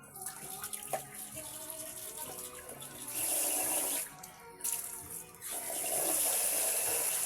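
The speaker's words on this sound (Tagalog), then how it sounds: "Ito guys, nakuha na tayo ng tubig." Water gushes from a tap in a steady, loud rush that begins partway through, pauses briefly, then resumes and continues to the end. No one speaks.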